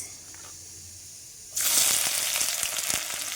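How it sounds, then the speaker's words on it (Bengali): Onions hit hot mustard oil in a wok for a kabuli chana dish, a quiet hum suddenly bursting into a loud, sustained hissing sizzle with crackles. "পেঁয়াজটা লাল লাল করে ভেজে নেবো"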